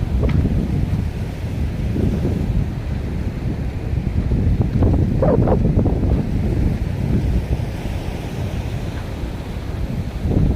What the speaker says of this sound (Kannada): ಇವಾಗ ಗಾಳಿ ಜಾಸ್ತಿ ಐತಿ.